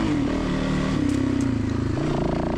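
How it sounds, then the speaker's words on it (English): Motorcycle engine revving on a dirt single-track trail, a loud, close, continuous engine drone that rises and falls as the throttle is twisted, with some clatter over the rough ground. "Twist that throttle."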